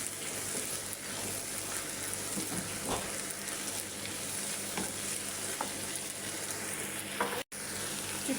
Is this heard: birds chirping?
no